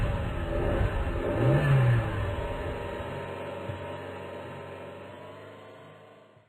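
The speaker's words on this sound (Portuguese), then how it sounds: "o Hannay consegue abrir o carro, ligar a ignição e finalmente partir para o mais longe possível" In the video game Exmortis 2, a car starts up and revs loudly, then drives off, its engine note rising and then fading steadily into the distance until it is nearly silent.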